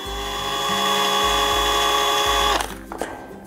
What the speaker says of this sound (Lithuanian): Ir tiesiog gręžti, bet man reikia tik tai vat, varžteliams įgręžti.